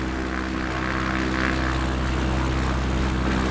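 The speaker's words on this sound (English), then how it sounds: "Gears down for runway landing." A propeller airplane descends toward a runway with landing gear lowered, producing a continuous, fairly loud engine drone with a steady hum and airy rush.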